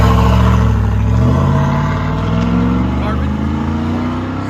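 A cammed Chevrolet Silverado pickup with an aftermarket muffler idles and revs close by, a loud, deep, choppy lope that swells and settles, with people talking underneath.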